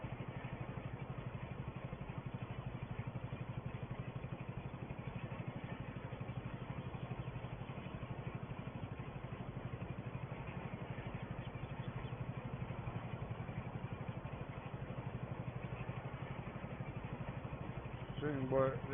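A small single-cylinder Porsche engine rolls along slowly, its regular low popping chug steady and fairly close across the whole stretch, with a voice faintly present over it.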